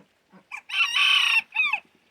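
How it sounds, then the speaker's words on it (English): A rooster on a farm lets out one loud, close crow in a strained, wavering cock-a-doodle-doo, with a brief cluck before it and a falling tail at the end, no talking. "You gonna crow again?"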